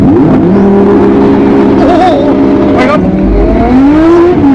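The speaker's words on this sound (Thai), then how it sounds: "อันนี้ทดสอบนะฮะศูนย์ถึงร้อยหน่อยแล้วกัน" A Lamborghini Huracán-based supercar, roughly 1,000 horsepower, launches hard from a standstill, its engine snarling loud and close as it climbs through gears with brief shift breaks; a voice speaks under the roar.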